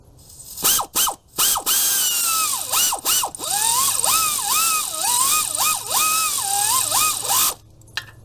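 A ratchet tightens bolts on a Chevy Impala plenum with bursts of fast clicking, a few short strokes and then a longer run of rhythmic ratcheting, loud and close, with no voices.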